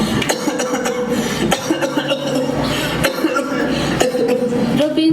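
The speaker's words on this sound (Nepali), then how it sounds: "सुरुमा त टिचरले पानी दिनुहुन्छ, तर एकछिनमा फेरि ऊ बेसरी खोक्न थाल्छ" A boy coughs hard in repeated harsh, rough bursts, close and loud, in a classroom drama about smoking, with voices and some chuckling mixed in.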